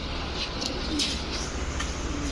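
Orange Chila pigeons, a Pakistani breed, cooing softly in a loft, a few faint coos under steady background noise.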